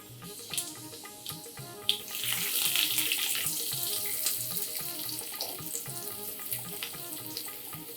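Mustard seeds and urad dal spluttering in hot oil for a Marathi tempering, a steady close sizzle dotted with sharp popping crackles and no talk.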